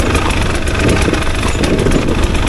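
Enduro motorcycle engine buzzing steadily while riding trails in Cyprus near the Mediterranean, loud and close with a continuous mid-pitched drone and small throttle fluctuations.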